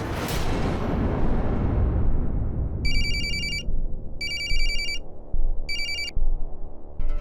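A telephone rings in three separated bursts of bright trilling bell tones over a steady room rumble in a Hindi crime drama scene, with no talk.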